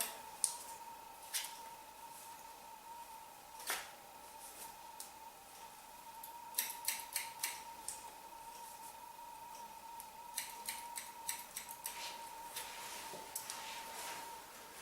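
Scissors cutting hair before a head shave, heard as scattered crisp snips and quick clusters of clicks over a faint steady hum, close and without talk.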